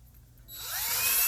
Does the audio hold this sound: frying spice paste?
no